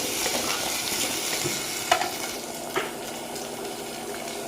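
Onion, chili and curry leaves frying in a pan, a loud, dense and steady sizzle close by, with two brief spoon scrapes partway through and no talk.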